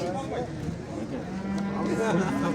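Cattle mooing at a busy livestock bazaar, several drawn-out lowing calls close by over a steady crowd murmur with people talking in the background.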